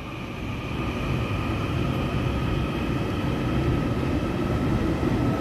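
A Taiwan Railway EMU local train pulls out of a station, with a steady electric motor whine and a rising rumble of wheels on track that grows slowly louder and holds close throughout.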